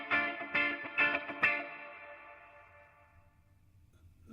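Four plucked electric guitar chords through a Laney Cub 12R combo amp ring out in quick succession, then the last decays slowly with a soft, subtle built-in reverb tail fading to near silence.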